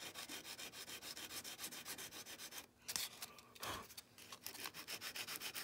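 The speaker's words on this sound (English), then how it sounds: "it's the best sandpaper I've ever used" Sandpaper of 120 grit with an open grain rubs steadily over wood while a rifle kit part is shaped, a close, loud and even back-and-forth scratching with a few brief pauses.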